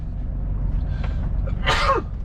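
A single sharp sneeze bursts out inside a truck cab over the low, steady rumble of the cab, preceded by a soft intake of breath.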